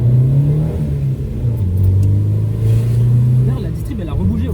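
Audi 80 B2 engine running steadily at low revs, a continuous low droning hum with small pitch shifts, heard from inside the car while people talk over it.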